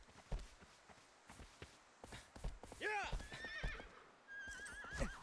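In the PlayStation 3 game Shadow of the Colossus, a horse gives several wavering neighs and whinnies over rhythmic clip-clopping hooves, with loud game sounds throughout.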